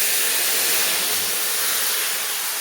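Cashews and raisins hit hot oil seasoned with panch phoron, giving a loud, steady, broadband sizzle and hiss close up, continuous with no talking.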